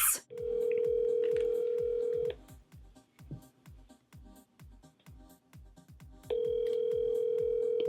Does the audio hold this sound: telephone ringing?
yes